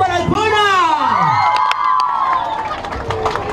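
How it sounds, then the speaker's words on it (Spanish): A crowd at an outdoor benefit event in El Puyo cheers, whoops and claps for the performer Arjona, with children shouting and an announcer's voice rising over the noise before it fades. "¡Aplauso para Arjona!"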